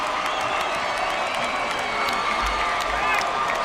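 Basketball crowd at a 1999 high school boys' quarterfinal game, Plano vs. Carmi, roaring steadily with cheers, whoops and scattered shouts, a dense continuous wall of reaction noise throughout.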